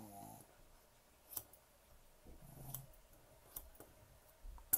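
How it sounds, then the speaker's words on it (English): Scissors trim a Maltese dog's coat in quiet, faint snips spaced irregularly, with a few soft clicks and a brief murmur of a voice. "So now I got to trim it again."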